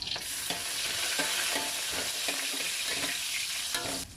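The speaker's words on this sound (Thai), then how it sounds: "เจียวเห็ดหอมให้หอมก่อนค่ะ" Shiitake mushrooms frying in oil in a pan: a continuous loud sizzle with rhythmic scraping and stirring strokes, close and steady throughout.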